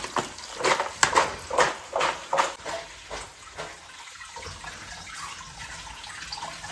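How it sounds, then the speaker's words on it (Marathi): Pigeon pea pods washed by hand in a tub of water give a run of rhythmic sloshing splashes for a few seconds, then settle into a softer, steady wet rustle nearby. "इथं आता तुरीच्या शेंगा घेतलेल्या आहेत धुवायला."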